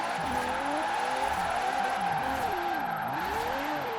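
A race car sliding and skidding in a racing video game, its engine droning steadily while the pitch bends and wavers as the tires scrub, loud and continuous throughout.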